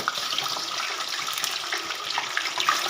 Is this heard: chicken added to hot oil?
yes